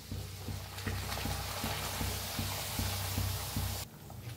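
Kadakani, crisp Maharashtrian fried puris, deep frying in hot oil, with a steady bubbling sizzle and small regular ticks that cut off sharply near the end.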